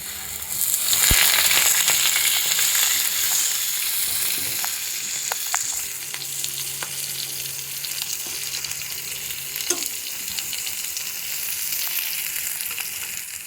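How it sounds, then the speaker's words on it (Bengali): Chili peppers frying in a pan, with a continuous close sizzle and intermittent stirring and scraping clicks throughout. "মরিচটা একটু ভেজে নেব"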